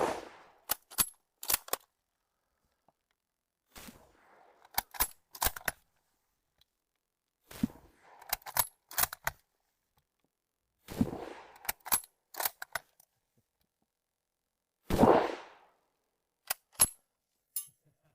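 A Persian Mauser bolt-action rifle is loaded and fired. Crisp, separate metallic clacks and sharp reports come in clusters spread across the stretch, some close and loud, with near silence between them and no speech.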